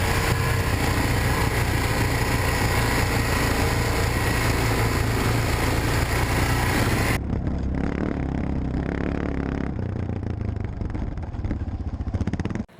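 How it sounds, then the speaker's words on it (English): A small engine runs during a race, a loud, buzzing high-revving drone that holds steady and then thins out and drops in intensity partway through before cutting off. "The motor."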